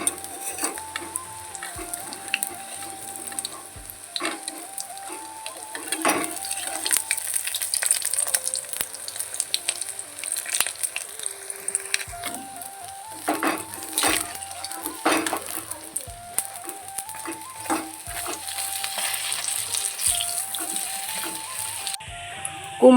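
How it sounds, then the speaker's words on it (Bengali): Pumpkin flower fritters fry in a pan under a continuous sizzle, while a utensil stirs and scrapes against the metal in repeated close clinks and knocks throughout, with no talking. "এখন কুমড়ো ফুলের বড়া হচ্ছে।"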